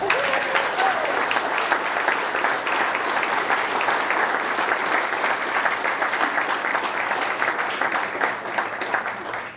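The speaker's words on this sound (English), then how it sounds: "now we can applaud our candidates" An audience at a Hastings city council candidates forum applauds the candidates, a dense, steady wash of many hands clapping that holds evenly for nearly ten seconds before easing slightly at the end.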